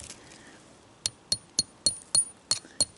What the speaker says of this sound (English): see, I just broke that by hammering